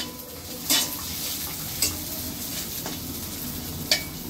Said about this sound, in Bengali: তো তেল আর পেঁয়াজ দিয়ে দিছে, ওগুলো একটু ভাজি করে নিয়ে তারপরে শাকটি দিয়ে দিব